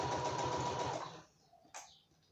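A sewing machine runs a quick line of stitches along the edge of a fabric notebook cover, a steady close whirring burst that stops abruptly after about a second, followed by quiet and a small clack.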